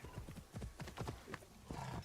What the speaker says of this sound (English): Maybe we'll get our horse back.